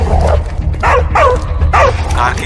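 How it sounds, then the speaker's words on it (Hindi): A dog in a Hindi film scene gives several loud, close barks and yelps at a fairly even pace over a constant low rumbling background. "सामने कुत्ता दिख रहा है"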